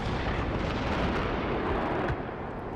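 A vehicle gunner in a video game fires on a far-off target, producing continuous heavy rumbling gunfire and booming blasts that fill the whole stretch with dense, loud noise.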